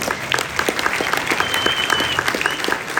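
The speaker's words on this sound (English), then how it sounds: "They want to give you golf claps." Audience applause at a live comic convention panel, a polite, even patter of many hands clapping steadily throughout, with no voices.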